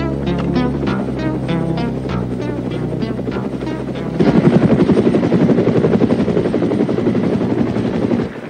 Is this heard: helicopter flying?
yes